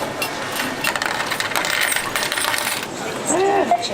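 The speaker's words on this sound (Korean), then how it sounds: "동전만 계속 쌓여간다." Coins clatter and jingle steadily into the change tray of a self-checkout machine in an Australian supermarket, a busy metallic rattle against store background noise, with a couple of short electronic tones near the end.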